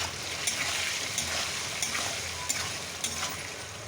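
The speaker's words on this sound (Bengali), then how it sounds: "বন্ধুরা কড়াইতে ডিম দিয়ে দিচ্ছি, হালকা নাড়াচাড়া করে নেব।" Eggs sizzle in oil with turmeric in a kadai pan, a steady loud frying hiss with occasional soft scrapes and taps as they are stirred, close up and without talk.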